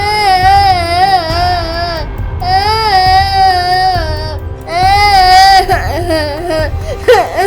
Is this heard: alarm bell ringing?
no